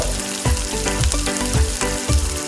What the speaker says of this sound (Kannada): ಜೀರಿಗೆ ಸಾಸಿವೆ ಚಟ್ಪಟ್ ಅಂತ ಸಿಡಿದ ನಂತರ ಸ್ವಲ್ಪ ಕರಿಬೇವು ಸೊಪ್ಪು